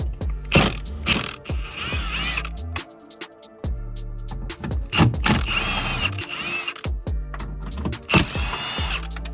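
Screws backed out of a G37 car's interior panel with a ratcheting wrench, close and loud, in rapid clicking bursts broken by short pauses and clanks of the tool.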